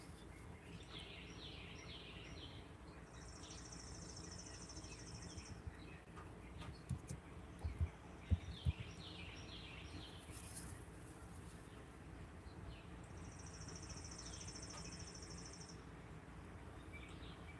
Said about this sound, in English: listening to some bird song